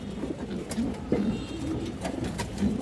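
A female Homer pigeon coos softly in low repeated murmurs, close by, with other birds and background noise around it.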